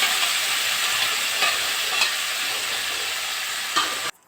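Tomato paste sizzles and fries in a pan while being stirred, a steady close hiss with a few soft scraping strokes, no talk.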